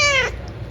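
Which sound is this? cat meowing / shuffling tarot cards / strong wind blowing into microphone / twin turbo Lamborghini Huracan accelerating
cat meowing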